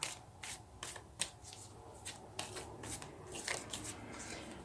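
Tarot cards being shuffled by hand, a run of soft, quick riffling and sliding bursts repeating irregularly at close range, fairly quiet with no talking.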